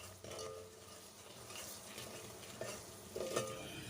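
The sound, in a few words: frying and stirring masala spice paste in a pan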